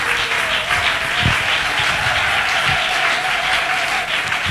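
A church congregation applauds to acclaim God during a French sermon: steady, dense clapping that holds at an even level from start to finish, with no speech over it.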